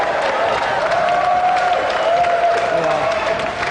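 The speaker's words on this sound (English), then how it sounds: "And a round of applause for the European Sega champion, Danny Curry!" Studio audience applause on a game show as the European Sega champion is honored, dense steady clapping and crowd noise filling the whole stretch, with a presenter's voice running over it.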